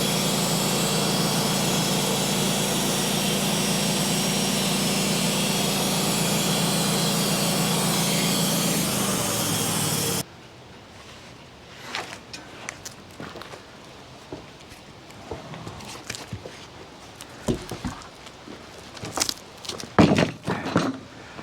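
A sawmill blade runs through a catalpa log being squared into an 8-inch cant, a loud continuous whine and roar for about ten seconds that cuts off abruptly, followed by quieter clunks, knocks and handling noises.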